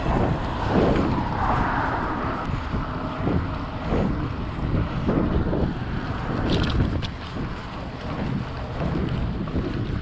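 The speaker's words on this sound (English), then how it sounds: "Turn into headwind." Heavy, continuous wind roar buffets the microphone while an electric bike is ridden into a headwind, a loud broadband rush that swells and eases slightly throughout with no voices.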